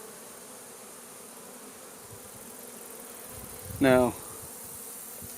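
Honey bees hum steadily during a hive inspection, with one louder bee buzzing briefly close by, while a person says a single word.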